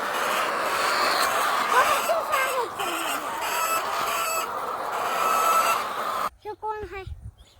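Chickens cluck and chatter in a shed with a tin roof, a dense, busy flock sound that goes on throughout, followed by a moment of people talking at the end.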